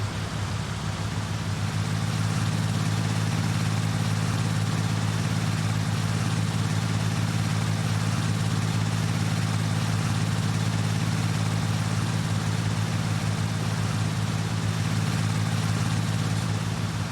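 A tractor engine idling in the farming video game Farming Simulator 19, a steady, loud, low drone that holds unchanged throughout with no talking.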